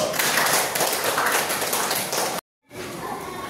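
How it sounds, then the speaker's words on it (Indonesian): A classroom of students applauds a presenting group with dense, continuous group clapping. It cuts off abruptly for a moment, then resumes slightly softer. "tepuk tangan dulu buat kelompok 1."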